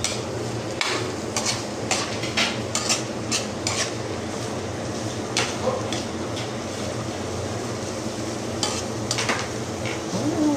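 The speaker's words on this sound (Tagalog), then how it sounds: "igisa na yung sili natin" Chili peppers being sautéed with onion in a pan for a coconut-milk eel dish: a steady sizzle with repeated clinks and scrapes of a utensil stirring against the pan, and some quiet talk in the background.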